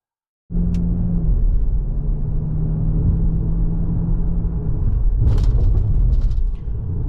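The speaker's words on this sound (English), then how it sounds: "we're out on the road in this 25 Corsair Premier 1 base trim action with all-wheel drive" A 2025 Lincoln Corsair Premiere all-wheel-drive SUV cruises along the road, giving a steady, loud low rumble of engine and road noise from inside the cabin, with a brief hiss partway through.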